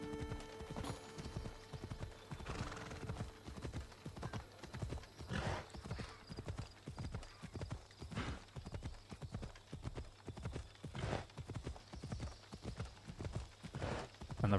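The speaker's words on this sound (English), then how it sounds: "you can't make the horse go faster unless you're in absolutely, like, normal terrain that's away from people" Horse galloping through the Assassin's Creed Odyssey game world, a steady rapid clip-clop of hooves with an occasional whinny, loud and continuous from start to end with no talking.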